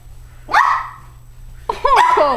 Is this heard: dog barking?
yes